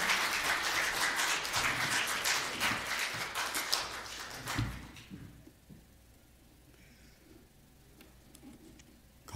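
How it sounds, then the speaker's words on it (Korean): A church congregation claps to welcome the pastor: dense, steady applause for about five seconds, then it dies away into a quiet room. "목사님 나오실 때 박수로 환영하겠습니다."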